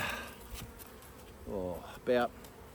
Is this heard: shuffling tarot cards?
no